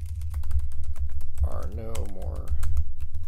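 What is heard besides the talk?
typing on computer keyboard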